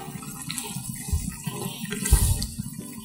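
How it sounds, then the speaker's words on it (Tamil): Tamarind water is poured into a boiling pot of prawn sambar, giving a steady splashing, gurgling pour with a couple of heavier splashes, close up and without speech. "இதில் புளி தண்ணி சேர்த்துக்கிறோம்"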